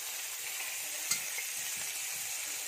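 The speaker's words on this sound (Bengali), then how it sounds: "শর্টকাটে রান্না করতে হবে আজকে, ভেজে নিচ্ছি।" Boiled potatoes and soaked chickpeas fry in a pan, giving a steady, even sizzle with a faint clink of stirring partway through, close and moderately quiet, with no talking.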